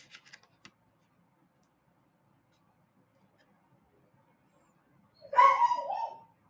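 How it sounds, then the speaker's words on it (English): A single short burst of a dog barking, fairly close, after faint scattered ticking sounds and a long stretch of near silence. "Don't know what she's barking at."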